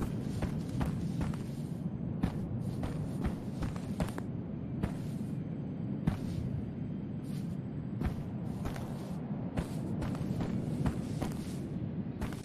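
Heavy stomping footfalls of a monster train in the Unforgiving horror game thud out in a repeated, somewhat irregular rhythm about once or twice a second, over a low ambient rumble.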